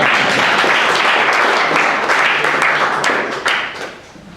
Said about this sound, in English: This is the moment where you can clap